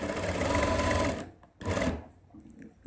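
A sewing machine stitches the side pocket of a men's kurta in two close, loud bursts of rapid whirring. A short pause separates them and a softer tail follows, with no voice over the sound.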